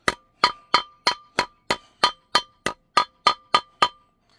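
Hammer tapping a wheel seal into the steel hub of a travel trailer wheel, about thirteen sharp ringing metallic strikes at a steady, even rhythm, loud and close with no talk.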